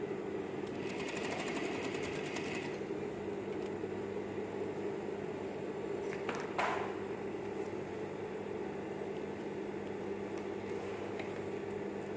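A sewing machine runs a steady, continuous stitch on hazmat PPE fabric, its motor humming evenly at close range with a short higher whir near the start and a brief clack midway; no one speaks.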